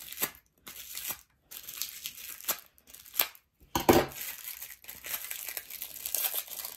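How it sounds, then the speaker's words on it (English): Scissors snipping into crinkly plastic packaging on a roll of 25 mil washi tape, with a few short bursts of crinkling and cutting, close and fairly quiet. "I'm gonna use my scissors."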